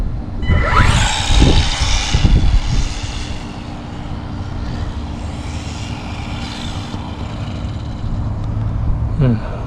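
A Losi NASCAR RC car drives off on a fresh battery, its electric motor whirring and buzzing loudly throughout, surging hardest early on before settling into a steady drone.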